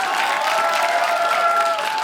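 Steady, dense audience applause from a live studio crowd at a Kazakh comedy talk show, loud and continuous with faint cheering mixed in.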